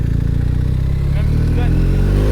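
A BMW R 1250 RT motorcycle accelerating, its engine a loud, close, steady drone whose pitch climbs smoothly over a couple of seconds as it revs up, with no talk.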